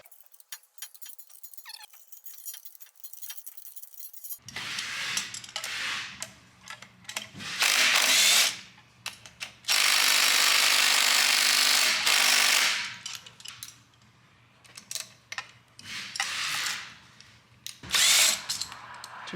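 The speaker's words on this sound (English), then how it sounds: "You're going to use a wrench or a ratchet wrench." Power tool and ratchet work on the exhaust manifold bolts of a Ford 6.0 Power Stroke diesel, loud bursts of whirring driver noise between quieter metallic clicks and handling sounds, close and without talk.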